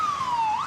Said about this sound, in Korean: 순찰차는 곧바로 사이렌을 켰고